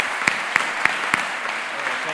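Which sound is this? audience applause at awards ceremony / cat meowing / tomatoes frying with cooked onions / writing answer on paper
audience applause at awards ceremony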